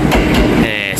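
A train arrives close by at Nabari station in Japan, its wheels clattering over the rails with a steady, loud roar.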